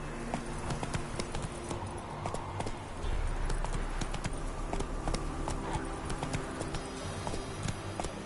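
Roach, a horse in The Witcher 3, gallops in a steady, rapid clip-clop of hooves that runs close and loud throughout, with a low rumble of movement beneath it.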